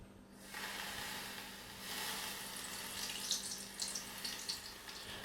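Elderflower fritters in batter frying in hot oil, a steady broadband sizzle that swells after a quiet start and crackles with sharper spits toward the end, close and alone.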